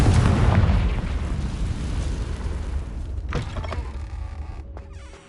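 A Confringo blasting spell goes off in the Harry Potter Legacy video game, a loud booming explosion with a deep rumbling low end that slowly decays and fades over several seconds, with a faint crackle near the end.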